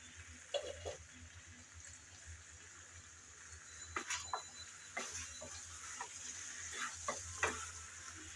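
Taro and rohu fish curry stirred in a pan, with soft spoon scrapes and scattered clicks over a quiet, faint sizzle, heard close and without talk.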